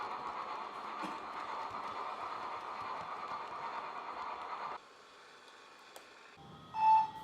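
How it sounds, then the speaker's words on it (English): A model Britannia Pacific, 70047, weathered, runs with a passenger train on a model railway layout, a steady rolling rumble that drops away suddenly, followed by quiet and a short tonal beep near the end. "a Britannia Pacific number 70047 with a passenger service"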